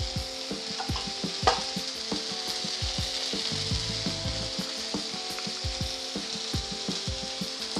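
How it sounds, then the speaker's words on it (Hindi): Spices such as chili, turmeric and cumin powder roast with vegetables in a pan for mixed veg dalia, giving a steady close sizzle broken by frequent clicks and scrapes of stirring. "और इनको भी थोड़ी देर तक भून लेंगे।"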